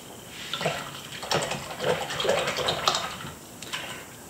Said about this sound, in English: Rinse my brush good.